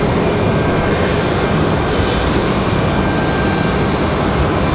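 Southwest Boeing 737 MAX jet departing Raleigh-Durham runway 23 right, a loud, unbroken engine roar that stays constant and close from start to finish, alone without speech.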